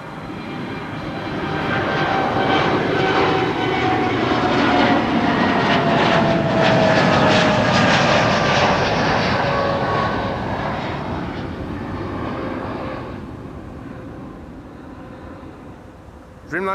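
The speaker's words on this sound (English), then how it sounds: "Dreamliner on the way to the Canary Islands" A Boeing 787 Dreamliner passes at Amsterdam Schiphol, bound for the Canary Islands. Its loud, sustained jet roar carries a gliding whine, swelling and then fading over about fifteen seconds, with brief talk in the background.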